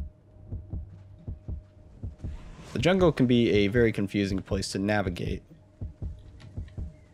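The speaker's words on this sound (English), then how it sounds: "the heart pounding can get really annoying because your health doesn't regenerate all that quickly" A low-health heartbeat thuds in the video game Paragon, with steady, evenly spaced pounding beats throughout. Someone talks over the middle stretch, and the beat stays clear before and after.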